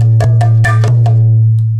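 A mridanga drum plays the pattern Nak Dhene Dhene Nak Dhene: five close, ringing strokes in a quick uneven rhythm over a steady low hum, with the tones decaying after the last stroke.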